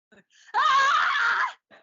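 A woman gives a long, loud sustained shout or scream, close and alone, with brief breaths before and a short vocal sound after.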